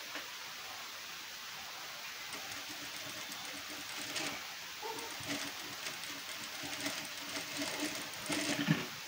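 A sewing machine runs in a steady whirring hum as it stitches a cloth seam for a hanging decoration, with faint clicks and a slight rise toward the end.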